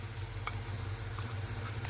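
Chopped onion drops into bitter gourd and potato frying in a pan, giving a steady close sizzle and soft patter with a low hum beneath, no talk.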